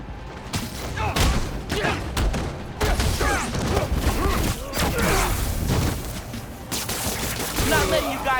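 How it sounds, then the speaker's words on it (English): Enemy gunfire and rocket launcher blasts in Spider-Man: Miles Morales, a sustained, dense barrage of shots and thuds running throughout with a voice speaking over the combat. "Your boss gave you rocket launchers?"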